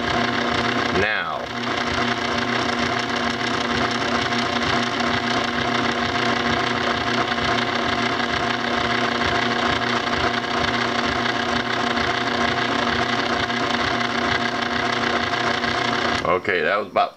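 An old electric bed motor runs with a steady, close whirring hum and a fine rhythmic pulse that holds evenly for about fifteen seconds before cutting off abruptly.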